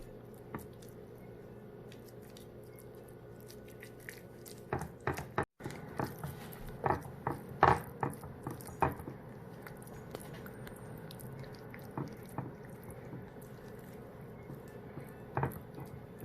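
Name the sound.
spatula flattening and spreading bean dip in a Pyrex dish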